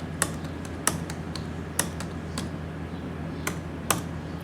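Marks are entered on a computer keyboard in sparse, distinct key presses, about nine clicks spread irregularly over a few seconds, close and clear over a faint background hum.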